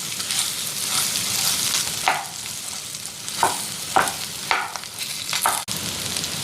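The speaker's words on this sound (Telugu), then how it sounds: "ఇప్పుడు వేపించుకున్నాం కదా" Ingredients for a coconut chutney made with toor dal, urad dal and green chillies sizzle and fry in a pan, a steady crackle broken by several sharp scraping stirs of a spoon against the pan.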